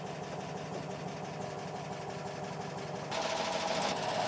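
A Fiat 500 engine idles steadily with a fast, even mechanical chatter, close by, growing louder and brighter near the end; no talking.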